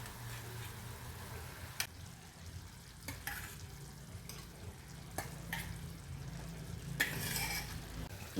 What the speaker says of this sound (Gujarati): પછી તેમાં રીંગણા બટેટા ડુંગળી નાખી ધીમા ધીમે ધીમે મિક્સ કરીએ